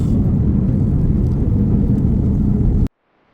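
Loud, steady broadband roar of a China Eastern airliner landing on the runway in Tokyo, heard from inside the cabin, ending abruptly into near silence.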